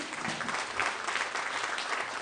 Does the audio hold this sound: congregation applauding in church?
yes